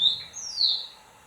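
A pet parrot indoors gives two clear, high whistled chirps, the second sliding downward, close by and alone over a faint room hum.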